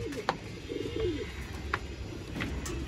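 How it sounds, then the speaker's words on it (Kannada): Pigeons kept in a loft in RT Nagar, Bangalore, give soft, repeated low coos close by, with a few sharper clicks and wing or perch sounds over a faint background hum. "ಇವಾಗ ನೋಡ್ಬೋದು, ಇವ್ರು ಪಾರಿವಾಳ ಸಾಕಿದ್ದಾರೆ"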